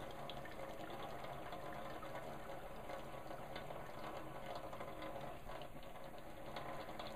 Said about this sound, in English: when you go to drain the meat, always put on your hot water